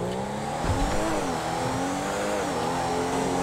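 An Audi A3 at full throttle in a driving game, engine droning high and steady with rising revs and a brief shift dip, loud and close with no traffic around.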